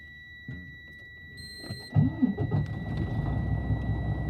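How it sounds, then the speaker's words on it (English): A car engine starts after a few soft clicks and a chime, the starter catching around two seconds in and settling into a low, steady idle, fairly close and moderately loud. "I am going to turn my engine on"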